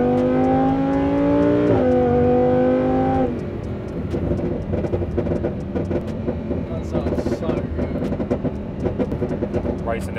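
Lamborghini engine revving as it races an Audi RSQ, a strong rising and shifting drone up close, then lower rumbling road noise with people talking over it.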